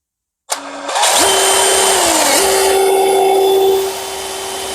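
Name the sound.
power drill running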